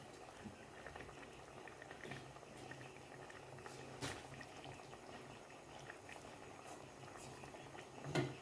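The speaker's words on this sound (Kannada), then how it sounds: "ಈಗ ಕುದ್ತಾ ಉಂಟು ನೋಡಿ, ಚೆನ್ನಾಗಿ ಕುದೀತಾ ಉಂಟು." Tamarind fish curry sauce bubbles steadily in a covered pot, a quiet, close, continuous simmer of small pops and gurgles with a few louder bursts, no voices.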